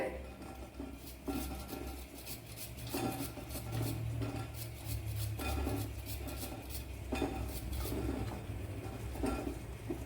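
A knife finely slices bitter gourd on a board, making a run of quick, close, rhythmic chopping taps in bursts, with faint kitchen clatter between strokes.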